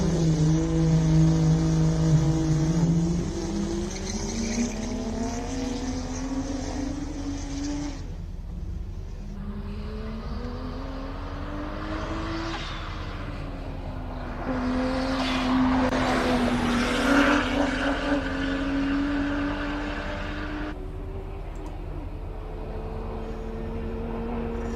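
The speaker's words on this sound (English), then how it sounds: "It accelerates quite well coming up that hill. That's a 335. That's a twin turbo. So I mean, you could hear that wastegate opening." A twin-turbo BMW 335 race car accelerates up the Simola hill climb, engine note rising through several gear changes with a loud turbo whoosh as it passes nearby, then fading into the distance.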